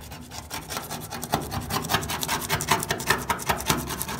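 Original painted logos being scraped off the body of a vintage car, a close rhythmic rasping scrape repeating in quick strokes, steady and alone.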